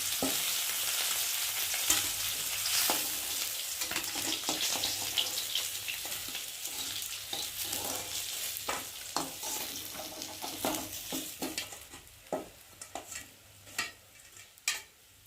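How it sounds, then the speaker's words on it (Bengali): Fish pieces frying in hot oil in a wok, a steady close sizzle that thins out over time, with sharp crackles and pops plus utensil clinks and stirring knocks as the fried fish is lifted out one by one. "মাছটা এপিট ওপিট দুপিট ভালো করে ভেজে নিয়েছি"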